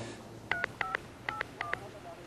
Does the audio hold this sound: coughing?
no